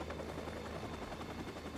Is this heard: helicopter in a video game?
yes